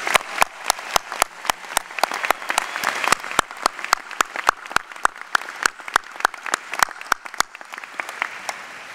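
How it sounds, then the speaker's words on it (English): An audience at a Rutgers-Camden commencement ceremony applauds the graduating class of 2014, sustained clapping in a large hall, with a few sharp close claps standing out before it tapers off. "So please join me in a round of applause for the members of the class of 2014."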